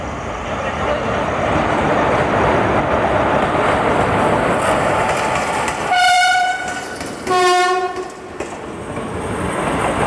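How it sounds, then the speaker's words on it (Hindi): The Manmad–Dharmabad Marathwada Express rolls in with a steady loud rumble of wheels. Two strong horn blasts follow, the second a little later, before the rumble settles again. "ये आ गई मनमाड़ धर्माबाद मराठवाड़ा एक्सप्रेस"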